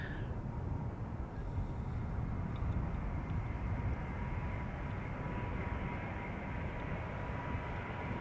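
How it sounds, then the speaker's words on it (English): Lufthansa Airbus A319, a 26-year-old jet, arriving from Munich at Schiphol Airport: a steady, broad engine roar with a faint tonal whine, constant and fairly close throughout with no talk. "Lufthansa flight 2302 arriving from Munich A319"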